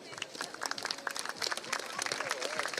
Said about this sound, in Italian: Ancora un applauso per Bosco Costruzioni.